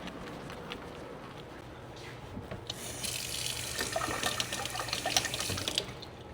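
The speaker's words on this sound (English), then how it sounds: "going to fill up our water bottle" A water tap runs into a large water bottle set in a deep sink in a dental hygiene clinic, a soft trickle that swells into a louder, fuller splashing rush as the bottle fills, heard alone at close range.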